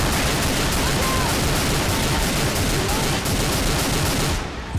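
Gunfire in Left 4 Dead 2 video game, a continuous dense barrage of rapid shots, loud and close, sustained throughout before dropping off at the very end, with voices faintly mixed in.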